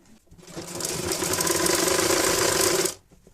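A sewing machine runs steadily for about two and a half seconds, stitching folded cloth for a child's rabbit-shaped hat, with a rapid whirring mechanical rattle that starts and stops cleanly, close and fairly loud, with no talking.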